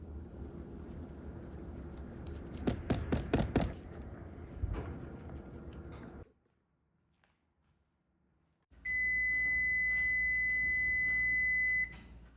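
A kitchen timer goes off while food bakes in the oven: after some clattering and a quiet pause, a loud, steady electronic beep rings out alone for about three seconds.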